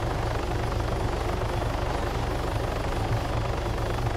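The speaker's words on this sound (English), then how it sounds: "That helicopter's loud as fuck though." A loud, steady video game helicopter in Arma 3 with a thumping rotor beat and engine roar, close and continuous throughout.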